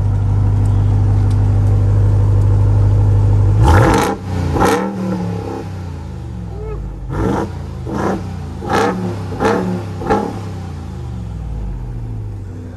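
A Ram TRX Launch Edition pickup's big engine idles loud and deep, then is revved in several sharp blips that rise and fall, close and powerful, with a heavy rumble running underneath throughout.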